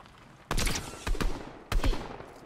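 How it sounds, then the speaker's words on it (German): Bursts of gunfire in the video game Fortnite, three sharp volleys in quick succession with shots blurring together, loud and close. "Freunde, da sind Schüsse."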